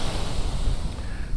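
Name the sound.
ocean waves, swell at California beach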